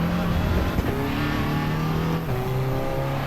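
Race car engine in Assetto Corsa EVO, loud and continuous, with a turbo whine layered over the revving drone and a brief backfire crackle partway through.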